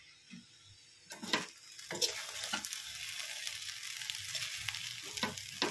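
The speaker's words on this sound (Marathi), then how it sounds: "तर आपण या ताटामध्ये वाढून घेऊया" Sabudana khichdi with potato, green chilli and crushed peanuts is scooped from a pan onto a plate, with a few soft scraping strokes over a faint sizzle, close by.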